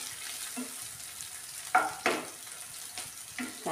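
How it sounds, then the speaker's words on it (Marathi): Onion frying in a pan and being stirred until browned, a soft continuous sizzle broken by a few scraping stirs, two of them louder near the middle, with no talking. "कांदा फ्राय झाला आहे."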